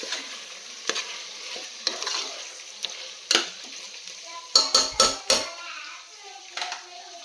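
Chopped tomatoes, about 150 grams, stirred into a hot pan for seeraga samba chicken biryani, giving a steady soft sizzle broken by scattered scrapes and a quick run of sharp clanks from a utensil against the pot.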